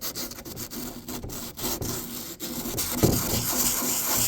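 Folded sandpaper rubs by hand over a 3D-printed part for a 1/6 scale 1966 Batmobile model, giving a steady scratchy rasp in short repeated strokes, close up and with no talking.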